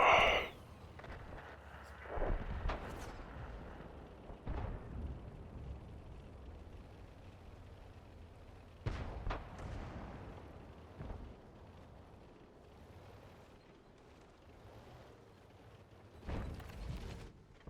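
Tank cannon shots in World of Tanks, where a few muffled booms land several seconds apart over a quiet, low background.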